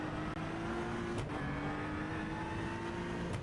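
A faint, steady engine drone of a GT3 race car in Le Mans Ultimate at Oran Park, humming at a constant pitch with a couple of soft clicks.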